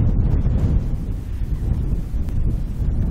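Strong wind on a golf course buffets the microphone in a constant low roar that rises and falls, with no voices over it.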